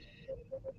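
A short phone tone of three brief electronic beeps, the first slightly apart from a closer pair, sounds faintly under a quiet room background during a casual conversation.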